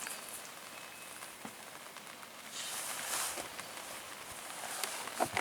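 Rain falls steadily during an outdoor freshwater carp fishing session under a parasol, a soft even hiss of drops with a brief louder patter swell, faint and without talk.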